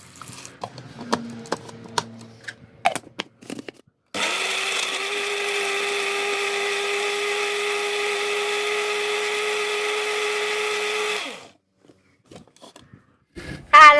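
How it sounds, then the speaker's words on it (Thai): Shallots with a little water whir in an electric blender, making a loud, steady motor drone for about seven seconds. Scattered clinks and handling knocks come before it starts and after it stops. "เราก็จะเติมน้ำเปล่าไปเล็กน้อยนะคะ เพื่อง่ายหรือว่า สะดวกในการปั่นนะคะ ทำให้มอเตอร์ไม่ติดขัดนะคะ"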